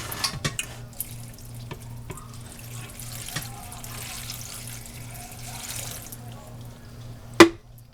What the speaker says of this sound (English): So I am just going to put in some water.